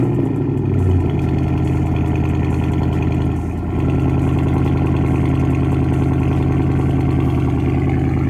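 A Dodge Charger engine idling steadily just after starting, loud and close, with a deep continuous rumble and a slight dip in the middle, run to clear water from the exhaust after a hose wash.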